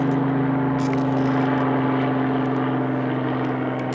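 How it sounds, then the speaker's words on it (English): Steady, loud rotor-engine drone from an aircraft passing overhead, with a strong low hum holding constant throughout and no voices. "There's a helicopter up there."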